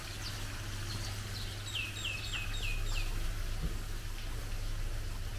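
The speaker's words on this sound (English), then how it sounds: "We have a lot of birds here." Chickens and other birds call at a farm resort near Chiang Mai, with a run of short, repeated chirps and clucks in the middle, faint and moderately distant over a low steady hum.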